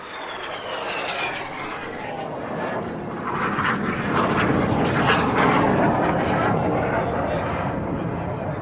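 Synchro pair display jets roar past during an air show carousel, a loud broad rumble that swells and stays heavy for several seconds, with a commentator speaking over it.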